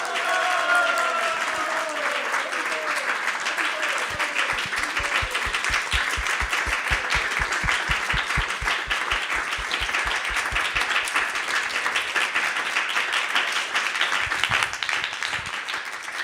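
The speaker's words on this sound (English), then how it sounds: "So a big round of applause to all of them." A live audience at a presentation of sloka recitation and Western preaching claps loudly and steadily, with some distinct individual claps standing out. A voice and crowd murmur are faintly present under the applause.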